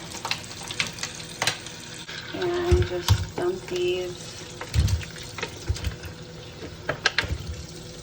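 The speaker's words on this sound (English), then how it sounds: "I'm gonna add some cold water" Cold water pours from a kitchen tap over strawberries and blueberries being rinsed, with splashing, clunks and rustles of fruit handling while someone talks.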